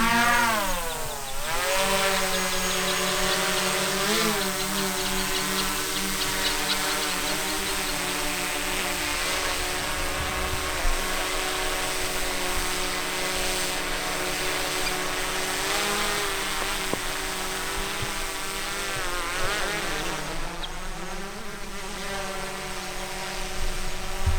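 A DJI Mavic 3T thermal drone lifts off at night on a hog hunt. Its steady, loud, high-pitched propeller whine holds throughout, with the pitch shifting slightly as it climbs.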